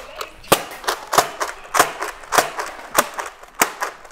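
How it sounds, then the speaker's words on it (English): A toy Nerf gun fired repeatedly, sharp snappy pops coming at a steady rhythm of roughly one or two per second, close and loud. "I'm gonna shoot him with the Nerf gun"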